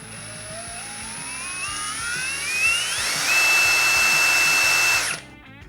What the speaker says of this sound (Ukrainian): знову, плавно натискаючи кнопку пуску, ми маємо можливість регулювати оберти